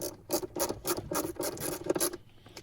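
A small Phillips screw is driven into a Chevy Impala dash panel, heard as a rapid rhythmic series of scratchy, ratcheting scrapes, close and moderately loud.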